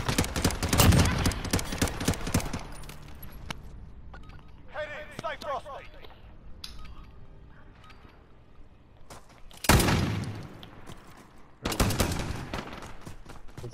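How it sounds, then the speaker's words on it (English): Shotgun blasts in Call of Duty Modern Warfare gun game mode: a cluster of sharp, loud shots at the start, then a quieter stretch before two more heavy booming shots near the end. "It's a shotgun, I think."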